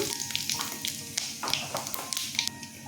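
Dried red chilli, bay leaf, cinnamon and small cardamom tempering in hot oil, a crackly sizzle with sharp pops and spits scattered throughout, close and lively, no talk.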